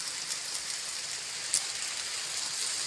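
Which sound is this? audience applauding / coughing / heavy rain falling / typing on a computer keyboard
heavy rain falling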